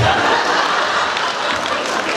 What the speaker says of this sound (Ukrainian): Ось вони, наші артисти, із скаженими оплесками ми їх проводжаємо